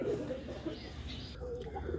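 Young native pigeon chick calling in a loft, a continuous low, soft cooing murmur with brief higher peeps toward the end, faint and close against a steady background.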